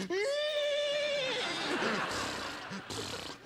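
A person imitates a horse neigh, a high, wavering whinny that trails off into a breathy, rough tail.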